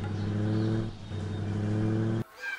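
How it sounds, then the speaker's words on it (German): A car driving in the Fiete World children's app game, a steady droning cartoon engine hum with a brief dip before it cuts off abruptly. "Auto steuern."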